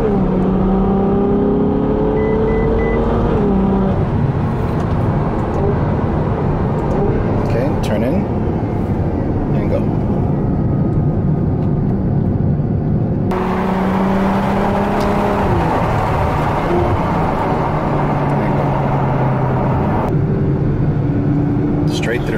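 A Ferrari F12 V12 revs and accelerates hard at a drag strip, its loud engine surging and rising in pitch over several long pulls, with people talking over the roar.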